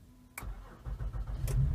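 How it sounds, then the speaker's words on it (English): A car engine cranks and catches with a sharp click and whir, then settles into a close, steady idle rumble, heard alone without talk. "So we're gonna start up in the car."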